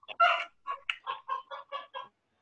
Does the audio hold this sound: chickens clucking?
yes